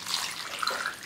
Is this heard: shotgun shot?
no